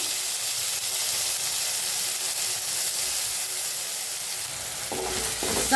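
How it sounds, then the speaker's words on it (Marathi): Moth bean dal dry-roasting in a pan with green chili and garlic, giving a steady, even sizzling hiss at close range, with a faint clatter right at the end. "हिरवी मिरची लसूण छान असं भाजलंय बघा ह्याच्यातच आपण डाळ बी भाजून घ्यायची"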